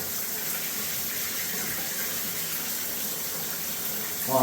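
Water runs steadily from a rebuilt Price Pfister three-handle faucet manifold into a sink. The flow makes a continuous, even hiss that swells briefly at the very end, with no talking.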